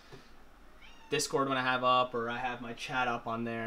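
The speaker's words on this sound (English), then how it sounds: "Sorry if you guys hear the cat meowing." A house cat meows repeatedly and close by, its drawn-out, tonal cries coming in two or three bursts while a person talks quietly in a home streaming room.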